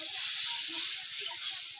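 Spice paste water poured into a hot pan for a Bengali fish curry with bitter gourd and drumstick stems, giving a loud steady hiss and sizzle throughout, close by, with no talk.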